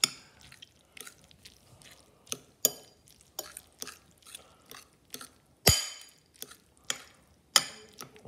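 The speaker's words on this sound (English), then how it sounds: "we have to keep stirring until it forms into a goo" Spoon scraping and tapping against a pot while macaroni and cheese sauce is stirred, a series of irregular close clinks and soft wet scrapes, fairly quiet, no talk.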